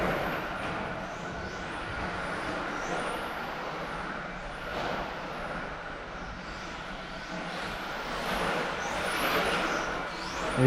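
Electric 1/10 scale RC racing car running a 13.5-turn motor on a track: a thin, high electric whine rises and falls repeatedly as the car laps at a distance, over steady outdoor ambience.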